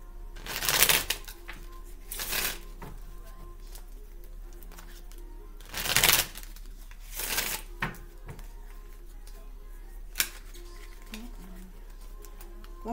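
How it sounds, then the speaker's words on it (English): Cards are riffle-shuffled in several quick bursts, each a crisp fluttering rush, separated by quiet pauses with faint background noise. "One more shuffle, please"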